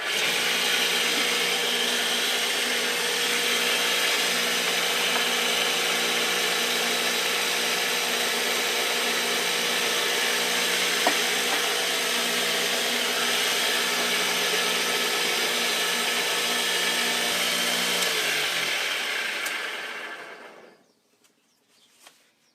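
Homemade junk-built foundry sand fluffer running as sand is dumped through, a loud, steady whirring rattle with a constant motor hum that winds down and cuts off near the end, leaving near silence.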